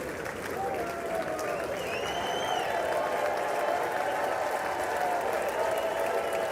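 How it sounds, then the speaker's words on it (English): A crowd at the State of the Union address applauds and cheers for the president, a dense, steady wash of clapping that holds at an even level from start to finish. "It's so weird to have like people like cheering for the president."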